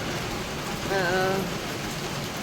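Heavy monsoon rain in Mumbai pours down as a dense, steady hiss, with one brief tonal sound rising through it about a second in.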